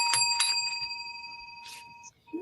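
A small handheld bell rings a couple of quick times near the microphone during a live stream, bright sustained tones lingering and slowly fading, followed by a faint rustle.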